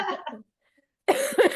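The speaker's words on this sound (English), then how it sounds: "I'm conscious that's your only cough." A single close cough in an indoor conversation, a short rough burst that follows a brief quiet pause after some earlier vocal sound.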